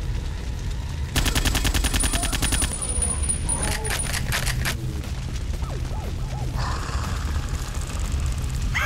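Rapid automatic gunfire in Duke Nukem: Manhattan Project, long rattling bursts mixed with booms and game effects, loud and dense across the whole stretch.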